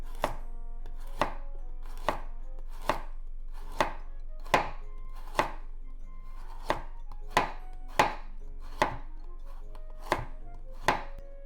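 A knife slices a carrot, washed with the skin on and trimmed top and bottom, into paper-thin slices on a board, giving about fourteen crisp, evenly spaced chops close up with no talking.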